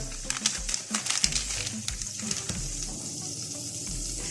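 Butter, about 250 to 300 grams, melting in a frying pan before dumplings go in, a soft close sizzle with crackling pops and light scraping early on, settling into a quieter steady hiss, no speech.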